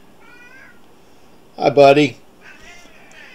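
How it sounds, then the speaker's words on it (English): A cat meows loudly for about half a second near the middle, with quieter mews around it and someone speaking briefly nearby. "Sorry about the cat in the background."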